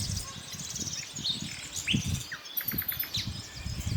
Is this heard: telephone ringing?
no